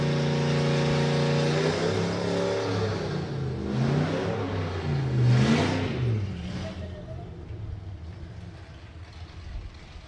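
A 1966 Mustang drag racing car at Santa Pod revs loudly and close, the engine pitch climbing and falling through several strong surges before settling into a rougher, fading rumble.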